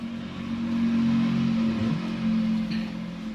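A steady, droning Yamaha RX-King motorcycle engine with a standard 3V3 exhaust idles and hums close by, with a low throb that rises slightly midway as if the throttle is eased open.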